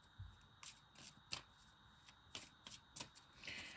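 Tarot cards being shuffled by hand, a series of quick, quiet riffling and slapping bursts in an irregular rhythm, close and faint, with no talk.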